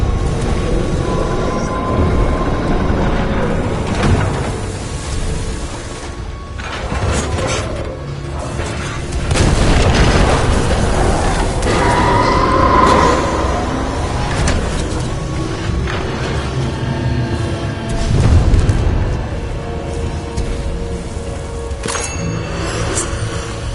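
A run of explosions in the video game Titanfall 2 booms and crashes in several heavy bursts, with mechanical clanking and whooshing debris between them. The blasts are loud and close and come with no speech.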